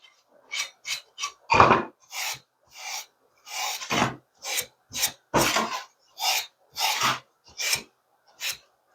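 Rhythmic rasping strokes of 00 steel wool wiping down the finished surface of a cedar box, about a dozen separate rubs with short pauses between them, close and moderately loud with no talking.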